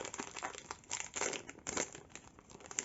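A Pokémon booster pack from the Shining Star set is torn and crinkled open close up, with irregular bursts of crackling foil and quiet rustling across a few seconds.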